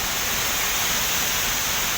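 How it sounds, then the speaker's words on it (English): Glencar waterfall roaring nearby, a loud, dense, unbroken rush of falling water that stays constant and fills the whole moment with no other sounds. "This is the Glencar waterfall."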